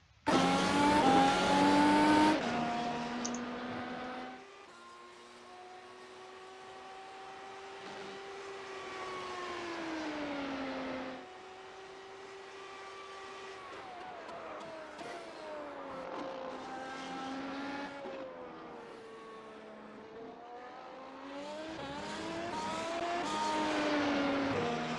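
A Mercedes W12 Formula 1 car laps Silverstone in the iRacing simulator, its high engine note rising and falling through gear changes and corners, with a loud opening burst and brief tire squeal, steady and close throughout.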